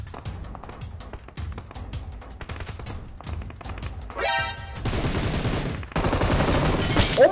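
Gunfire in the mobile battle-royale game PUBG Mobile: quick single shots and short bursts crackling through the first seconds, then heavier sustained firing and a rising whooshing effect, with louder dense shooting near the end.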